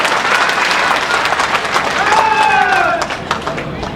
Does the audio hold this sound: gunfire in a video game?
no